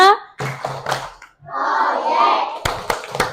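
A group, likely students, performs the Tepuk P5 clap chant for a Pancasila student profile activity, sharp rhythmic hand claps in quick bursts alternating with chanted voices, close and fairly loud.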